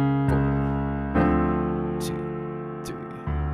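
Piano playing the opening measures of a song slowly, with sustained chords struck in a measured rhythm that ring and decay between each new attack, close and clear with no voice over them.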